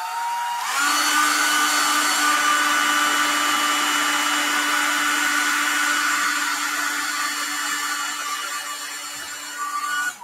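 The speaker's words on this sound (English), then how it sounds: "I'm going to hit this with a blow dryer." A blow dryer switches on and runs loud and steady for about ten seconds, a close whining hum as it dries marble-effect paint, with no talking.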